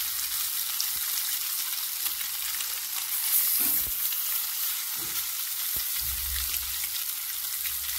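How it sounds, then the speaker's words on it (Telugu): Fish fry in oil in a pan, giving a continuous close sizzle with occasional sharper crackles and a few clinks of stirring, no voices present. "ఇంకా ఉన్నాయి కదా ఫిషెస్, అవే ఈ ఆయిల్లోనే వేసుకుందాం"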